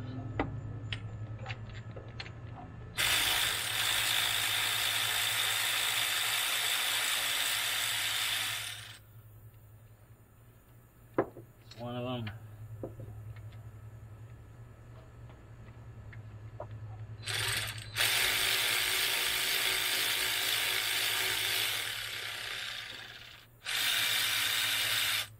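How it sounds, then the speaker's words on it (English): A deep socket on an electric ratchet turns bolts on a 1999–2000 EK Honda Civic cylinder head, with two long, loud, steady whirring runs followed by shorter bursts. "Deep socket on our electric ratchet here."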